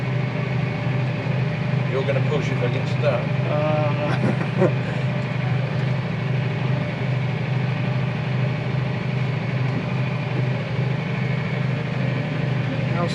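A tractor idles steadily in a muddy field with the diff lock on, a low continuous engine rumble running throughout beneath close conversation.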